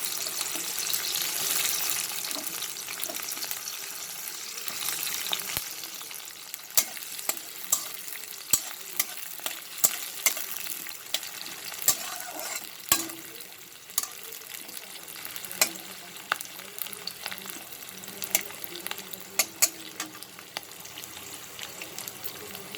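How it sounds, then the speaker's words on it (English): Onions frying in mustard oil in a pan over a medium-high flame while cooking chicken keema: a steady, close sizzle runs throughout, broken by frequent sharp clicks and scrapes of stirring, with no talking. "I'm using mustard oil for cooking. You can use any oil that you want. And first we will fry the onions."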